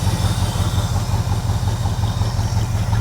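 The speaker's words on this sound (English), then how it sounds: "But now it's quiet. Super smooth, quiet engine." A squarebody plow truck's engine idles smoothly and evenly up close, a steady low rumble with a faint regular ticking pulse and no talk.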